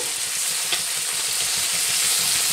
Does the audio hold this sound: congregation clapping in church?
no